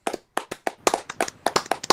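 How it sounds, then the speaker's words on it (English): A small group gives Joe a quick round of applause, a dozen or so sharp, uneven claps close by, sparse and ragged rather than a full ovation. "Round of applause for Joe."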